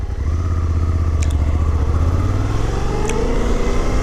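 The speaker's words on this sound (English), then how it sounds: "Now I can spin a little bit, spin some tires." An adventure motorcycle on Dunlop Trailmax Mission tires revs and spins on gravel, a loud, close, steady engine drone with rising pitch as the rear wheel churns.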